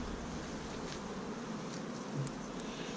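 Honey bees buzz faintly inside a sparsely populated hive during an inspection, a soft, steady drone, close but quiet, with a few brief louder passes near the end.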